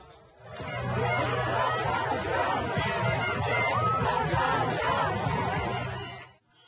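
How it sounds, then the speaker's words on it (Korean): A large crowd gathered outside the Trump hotel in a New York street celebrates, a dense roar of cheering, whooping and shouted chants that holds steady and loud for several seconds before cutting off. "뉴욕의 트럼프 호텔 앞에 몰려든 인파가 손을 흔들며 환호합니다."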